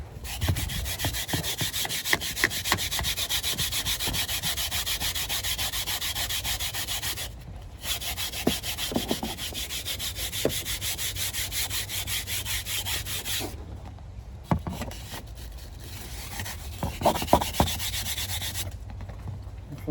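Steady back-and-forth scrubbing during cleaning, a continuous close rasping rub that stops briefly a couple of times before resuming, with a few light knocks.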